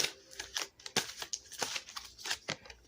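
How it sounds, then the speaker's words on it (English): Cards are shuffled close by in a quiet room, giving soft, crisp riffling and flicking bursts in an irregular rhythm, faint and with no voices over them. "One more shuffle."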